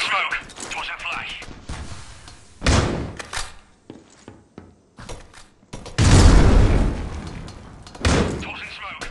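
Frag, smoke and flash grenades in the Critical Ops shooter game: several loud bursts and thuds, including a sustained blast, spaced among clicks and softer effects, with a voice talking in between.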